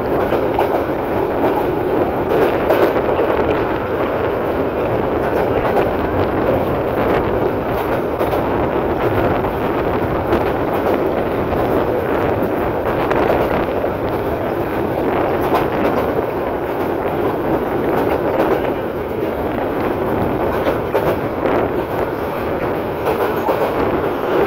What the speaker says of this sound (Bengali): কর্ণফুলী কমিউটার ট্রেনটি ব্রাহ্মণবাড়িয়া রেল স্টেশন থেকে ছাড়ার পর বাগাচান রেল স্টেশন যাত্রাবিরতি দিয়েছে।